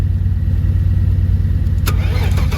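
The starter cranks the engine of a long-stored farm car, either a Saab 900 or a Subaru Brat. It gives a loud, close, rapid rhythmic churning that continues throughout without catching.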